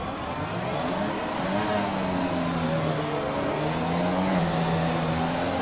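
Several F1 car engines in the F1 2020 video game rev and whine together at the race start, a loud, continuous drone with pitch rising and falling.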